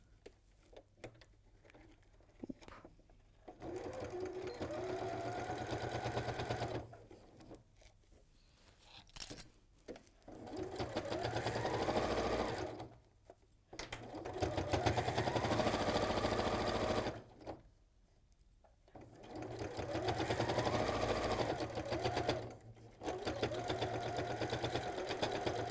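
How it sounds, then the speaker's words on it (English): Sewing machine stitching cut fabric pieces together in several loud bursts of rapid mechanical whirring, each run several seconds long and separated by short pauses as the fabric is repositioned. "So, now, we sew this together."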